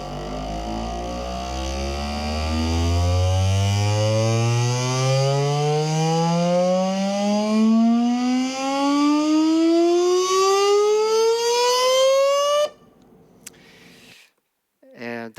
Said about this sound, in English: That's the sound of an actuator with a 100 hertz speed bandwidth.